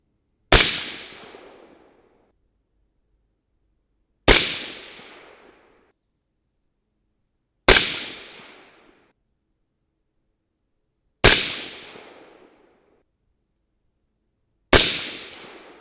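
Five sharp rifle shots of .223 reloaded bullets crack out at an outdoor range, evenly spaced about three and a half seconds apart, each loud and close with a quick decaying tail into silence.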